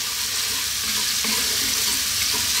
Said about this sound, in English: Just a few seconds stirring this around. It's really going to infuse that oil, give it a great flavour.